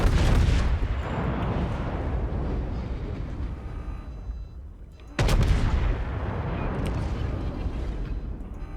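Naval artillery fire from the USS Texas battleship in World of Warships, heavy booming blasts rumbling continuously with a sharp loud salvo near the middle, dense low roar throughout.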